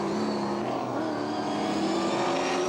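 V8 touring race cars at Manfeild in New Zealand roar as a pack, a continuous loud engine drone with layered tones and no talk over it.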